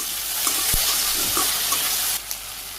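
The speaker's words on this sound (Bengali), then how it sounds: "তেলও গরম হয়ে গেছে, আমি ঢেঁড়স ভাজি দিয়ে দিই।" Okra frying in hot oil in a village kitchen, a steady broad sizzle with a few stirring knocks, fairly close, dropping a little quieter near the end.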